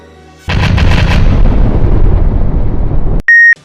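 A huge cosmic explosion effect bursts in suddenly with a loud broadband blast that rumbles and slowly decays for nearly three seconds, then cuts to a short steady electronic beep tone.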